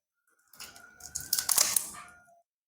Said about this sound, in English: Let's take these polythenes off.